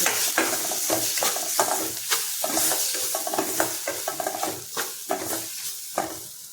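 Steady sizzling of spices frying in oil for Tamil egg sukka, with rhythmic scraping strokes of a spoon stirring the pan, close and fairly loud, no voices.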